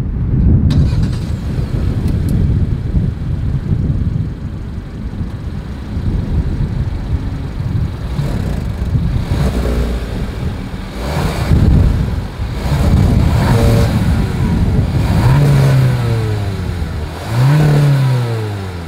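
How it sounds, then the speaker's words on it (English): A 2024 Kia Seltos with a single exhaust idles and then revs, its engine rising in a few sweeping blips near the end, heard outdoors with steady wind buffeting the microphone. "As always, here is that exhaust clip."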